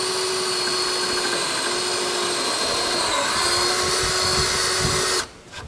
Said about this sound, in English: I'm drilling the hole